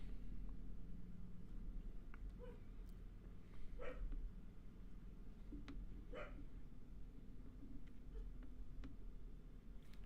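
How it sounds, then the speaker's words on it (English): A dog barks a few scattered times at a distance, the sharp yaps faint against a steady low rumble of outdoor traffic. "Dog's barking at something."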